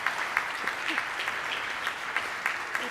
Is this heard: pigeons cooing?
no